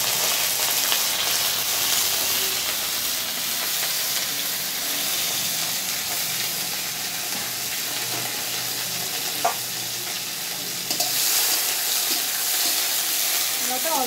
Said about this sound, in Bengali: আগে আমি কলাটা ভেজে নিই, তারপরে উচ্ছে আর বড়িটাও ভেজে নেব।